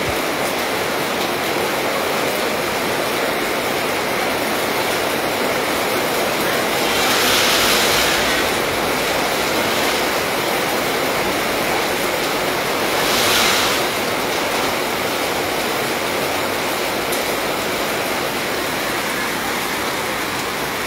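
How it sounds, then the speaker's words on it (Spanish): Heavy rain pours steadily onto a street-market stall in a tianguis, making a loud, unbroken hiss that swells twice, with no voices. "qué feo es cuando le llueve a uno que está en el tianguis"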